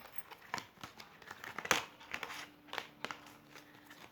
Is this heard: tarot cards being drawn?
yes